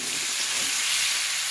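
Onions, garlic and ginger fry in hot oil in a pan, a continuous bright sizzling hiss that holds steady and close with no voices over it.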